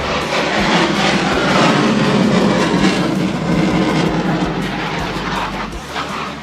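F-16 Fighting Falcon fighter jets flying over a military parade at Monumen Nasional: a loud, broad jet roar with rushing noise, sustained throughout and gradually shifting as the aircraft pass.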